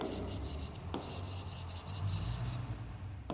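Chalk or marker scratching across a classroom board in short rubbing strokes, close and quiet against steady low room hum, with no one speaking.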